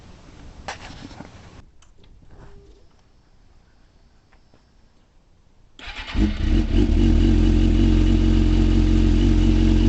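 Quiet rustling and clicks, then a 2005 Suzuki GSX-R600 sport motorcycle with a shortened factory exhaust fires up and settles into a loud, steady, throaty idle.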